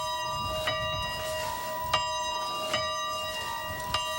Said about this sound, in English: The bell still rings today